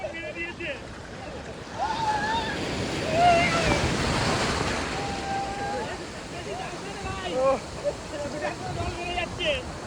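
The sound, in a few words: sea waves on the beach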